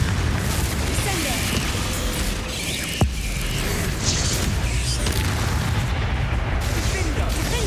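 Spell blasts such as Confringo erupt in Hogwarts Legacy, a dense, loud wash of magical booms and crackling impacts with mechanical clatter, over continuous game sound and a voice.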